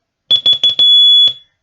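Morse code letters Zh and Z keyed as a loud, clean high-pitched tone: three quick short beeps, then one long held beep, with another short beep after a pause.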